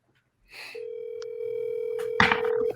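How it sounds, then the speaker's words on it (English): A phone call being placed gives a brief tone blip followed by a steady, sustained dial tone, with a short burst of faint noise near the end and no speech. "Calling my mom's phone."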